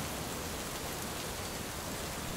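Steady rain pours down in a dense, even hiss with no break and no voices.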